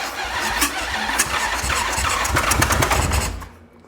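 A chopper motorcycle engine runs on choke after starting, a loud, uneven mid-pitched rumble with sputtering pops for about three seconds before it suddenly dies away.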